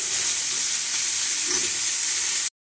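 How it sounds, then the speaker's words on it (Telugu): Brinjal pieces fry with onions and green chillies in a pan, making a loud, continuous hissing sizzle up close that stops abruptly. "ఇప్పుడు మనం దీనిలో వంకాయ ముక్కలు కూడా వేసుకోవాలి"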